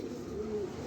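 A single pigeon in a loft gives a short, low, drawn-out coo, close and fairly soft against a steady background hum.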